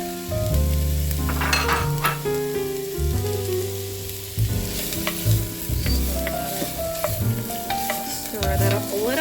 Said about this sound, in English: put my garlic in, and then I'm gonna go ahead and put my carrots, onions,